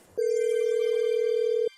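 A single electronic telephone ring tone sounds as one steady, clear, sustained tone of about one and a half seconds, then cuts off. No one speaks.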